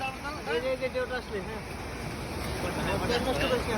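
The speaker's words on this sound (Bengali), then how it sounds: "এই যে ঢেউ আসতেছে," Sea waves wash onto a beach with wind buffeting the microphone, while several people talk nearby over the surf.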